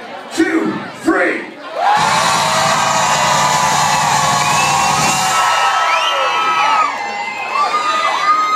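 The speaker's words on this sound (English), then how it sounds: "Everybody scream." A concert crowd at a tribute show screams and cheers loudly and continuously for several seconds after a short spoken countdown, the roar fading slightly into scattered whoops at the end.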